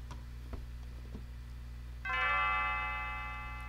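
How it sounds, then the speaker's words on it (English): A few soft ticks sound before a video game bell chimes once. The clear, resonant tone rings out and slowly fades over a low, steady background hum. "since Lean's bell starts ringing"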